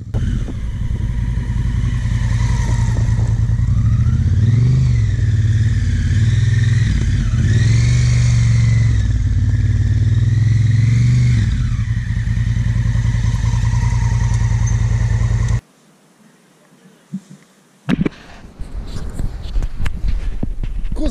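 A motorcycle engine drones steadily, pitch rising and falling as it brakes and shifts down in a slow curve, then cuts off abruptly, leaving quiet with a few clicks and rustles.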